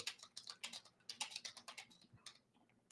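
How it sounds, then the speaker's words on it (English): Quick, uneven bursts of keystrokes on a computer keyboard, close and fairly quiet, clattering in short runs that thin out toward the end with no talking. "I did not expect my typing skills to work very well right there"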